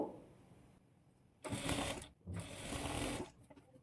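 A blouse seam runs through a sewing machine in two close, steady bursts of rapid whirring stitching, the second longer, after a quiet pause.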